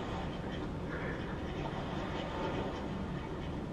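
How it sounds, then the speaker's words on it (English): Ducks quack from a nature film playing on a television for cats, the calls coming through under a steady wash of broadband background noise that lasts throughout. "He's watching ducks walk on the snow and then swim in water."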